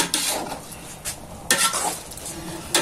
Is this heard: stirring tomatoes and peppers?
yes